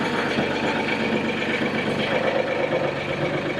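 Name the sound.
Mahindra Max 26 XLT hydrostatic tractor engine idling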